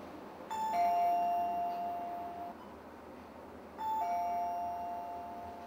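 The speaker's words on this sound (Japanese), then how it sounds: "そしてピンポンを押します" An electronic doorbell chime rings twice, a clear two-tone ding-dong, the second ring following a few seconds after the first.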